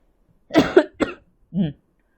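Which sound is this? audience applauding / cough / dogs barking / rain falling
cough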